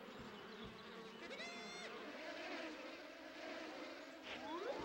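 Bees buzz in the GameCube game Winnie the Pooh's Rumbly Tumbly Adventure, a steady droning hum under brief gliding musical tones and chimes from the game, with no voices.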